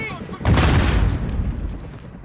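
A grenade blast in the Modern Warfare video game erupts as a sudden loud boom with a rumbling tail that fades over about two seconds.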